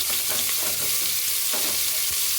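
Onions frying in hot oil in a pan with mustard seeds and cumin for gorikayi (cluster bean) gojju, a steady close sizzle with soft stirring scrapes throughout, no talking.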